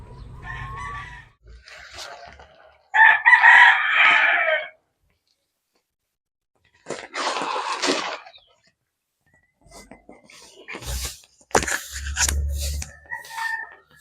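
Dekalb Brown chickens cluck in bursts around a breeding area, with a rooster crowing loudly partway through and scattered nearby calls separated by quiet gaps.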